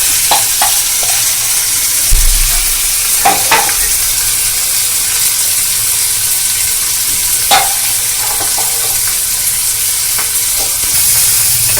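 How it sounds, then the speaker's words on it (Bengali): A potato and chickpea filling is stir-fried in mustard oil, a steady close sizzle broken by repeated scraping and knocking of the spatula against the pan, with no talking. "এটাকে ভালো করে নেড়ে নেড়ে কষে নিতে হবে তেলেতে"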